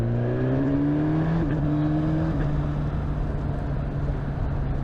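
A Suzuki GSX-S1000 motorcycle accelerates under throttle, its engine note climbing in pitch through a couple of gear steps before settling into a steady loud drone mixed with wind noise.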